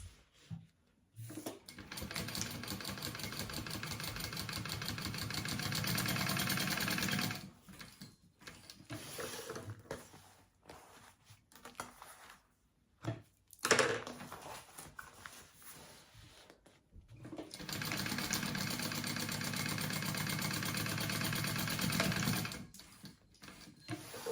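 A sewing machine basting down the sides of a mini backpack's pockets, running in two long steady bursts of rapid stitching separated by a pause filled with brief handling clatter.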